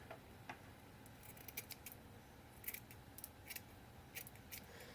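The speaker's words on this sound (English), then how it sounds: "I'm going to use my goopy scissors to do this one because it's got glue on it." Scissors with glue on the blades snip repeatedly at close range, a run of quiet, crisp cuts through paper in an uneven rhythm over a faint background hum.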